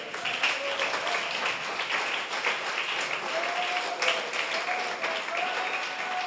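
A church congregation breaks into steady applause for several seconds, a broad, even roar of many hands clapping, with faint voices calling out over it.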